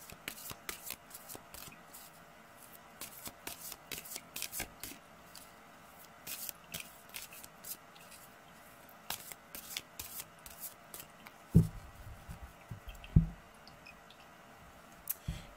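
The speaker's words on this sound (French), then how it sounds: "je vais simplement tirer une carte supplémentaire, des cartes lumière pour voir quel conseil" A card is drawn from a deck of oracle cards, giving soft, scattered clicks and light shuffling taps of card stock, faint and close, with a couple of louder handling thumps late on.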